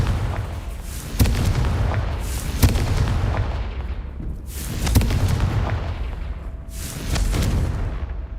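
Confringo explosive spell blasts in the video game Hogwarts Legacy: four loud, booming bursts spaced about every two seconds, each with a sharp crack and a rolling rumble that fades out.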